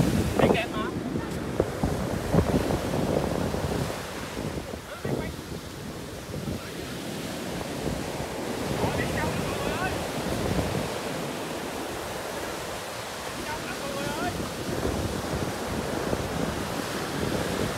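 Sea waves on a sandy beach in Ninh Thuan, a steady broadband wash of surf mixed with heavy wind buffeting on the microphone, continuous throughout with faint voices underneath.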